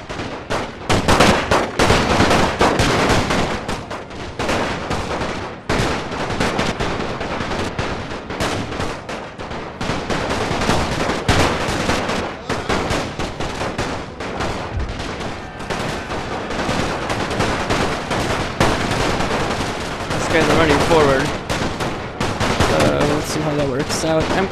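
Dense, continuous volleys of rifle and machine-gun fire from a World War I strategy game battle, loud and nearly unbroken throughout, with scattered heavier bursts and no pauses.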